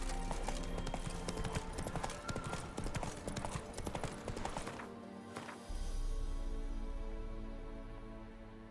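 Hoofbeats of a horse galloping in The Witcher 3, a steady rapid clip-clop that runs loud and close through most of the stretch, dropping briefly before resuming, with game ambience underneath.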